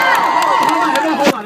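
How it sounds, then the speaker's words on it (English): A crowd of students at a student movement gathering lets out a brief, loud burst of cheering and shouting, voices overlapping up close. "let's give a big round of applause"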